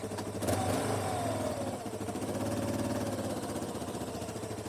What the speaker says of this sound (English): you just start easing off the clutch and the quad goes backwards